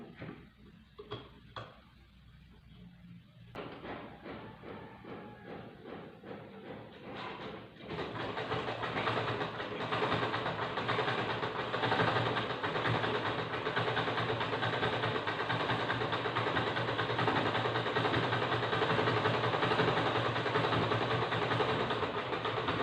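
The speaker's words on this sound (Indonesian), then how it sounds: "langsung kita jahit pakai mesin jahit" An electric sewing machine stitches a fabric face mask: quiet handling noises at first, then the motor starts and runs in a steady, continuous whirring drone to the end.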